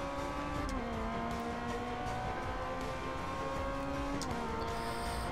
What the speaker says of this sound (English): This Ferrari is so nice to drive.